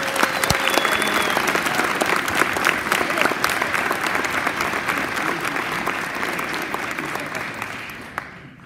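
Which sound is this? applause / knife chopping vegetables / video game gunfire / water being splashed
applause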